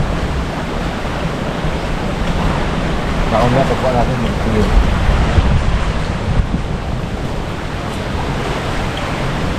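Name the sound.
sea waves and strong wind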